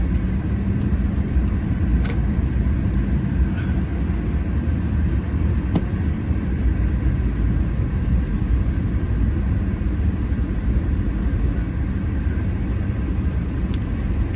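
Heavy truck traffic rumbles at a busy truck stop in Columbus, Montana, with well over 200 trucks present. The engine drone is low, continuous and steady, without any talk.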